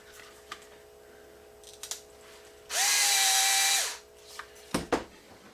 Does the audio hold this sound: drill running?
yes